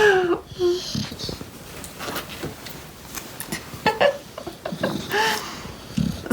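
An English bulldog snores while asleep, giving wheezy, whistling snorts and breaths in an uneven rhythm, close but fairly soft, with faint murmuring between them.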